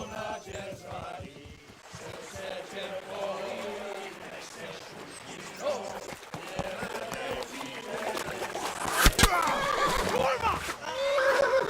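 A horse neighs loudly in the video game Kingdom Come: Deliverance, amid shouting voices, hoof clatter and outdoor riverbank action.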